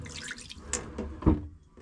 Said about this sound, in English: there's like a hand pull beer pump for the fresh water